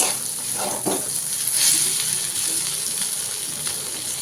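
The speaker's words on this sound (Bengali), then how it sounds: "একটু তেল তেল করে বেশ মুচমুচে করে ভাজতে হবে।" Steady crackling sizzle of food frying in hot oil, close and continuous, with a brief stirring or splash partway through.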